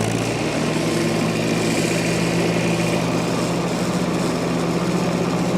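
A new lawn mower's engine runs steadily at close range, a continuous buzzing drone that holds an even pitch and loudness throughout, with no talking over it.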